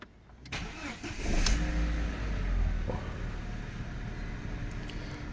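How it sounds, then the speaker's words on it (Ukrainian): A 2004 Audi A4 B6 1.6 petrol engine cranks and catches on a cold start, revs briefly, then settles into a steady, even idle. "Моторчик працює рівненько, чистенько."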